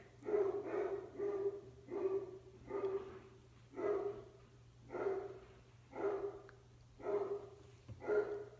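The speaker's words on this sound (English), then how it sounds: "I don't even know if you can hear my dogs barking out there." Dogs bark outside repeatedly at a steady pace, about eight barks, muffled and at a distance, over a low constant hum.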